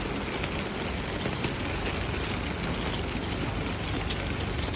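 Rain falls steadily on a cold, wet day in Shinjuku, Tokyo, a dense even hiss with faint patters and no break across the whole stretch.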